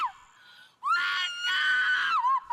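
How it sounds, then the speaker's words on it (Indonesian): A man screams hysterically in sustained, loud, strained bursts, a rising wail followed by a long held cry that breaks off near the end, with no talking. "Mati berteriak histeris karena dirinya tidak mau kehilangan ayahnya"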